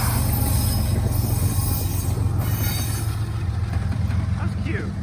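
A freight train with a DPU locomotive rolls past on the rails in Muncie, a loud continuous rumble of wheels with squealing and clatter throughout, close by.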